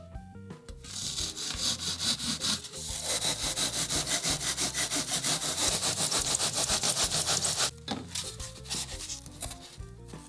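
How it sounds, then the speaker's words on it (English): Handsaw slicing off excess material on a cheap foam-and-wood prop build, a long run of rapid, even back-and-forth rasping strokes, close and loud, with brief pauses at the start and end. "Then with a handsaw, I can carefully slice off the extra material."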